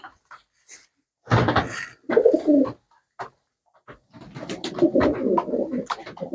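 A few soft knocks and thumps, then close pigeons cooing in low, rolling phrases that continue steadily toward the end.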